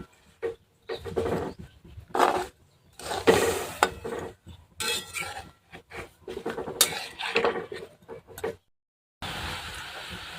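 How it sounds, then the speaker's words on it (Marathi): Jaggery and peanut mixture stirred in a pan on a gas stove, with a spoon scraping and clattering against the metal in irregular bursts. The sound is close and moderately loud, with short pauses between strokes and no talking. "आता गॅसवरती आपल्याला असंच हे मिश्रण ढवळत राहायचं आहे कारण आपल्याला पाक करायचं आहे"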